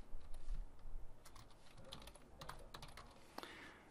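Keystrokes on a computer keyboard entering a Linux terminal command, a quiet run of irregular clicks and taps over about four seconds, fairly close with no speech.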